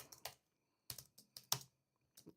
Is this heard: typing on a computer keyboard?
yes